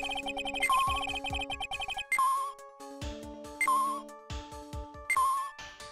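Item-detecting sweeper device in the Ace Attorney 2: Justice For All video game, giving a series of bright electronic chiming tones and beeps in repeated bursts with short pauses between them, clear and loud with no voices.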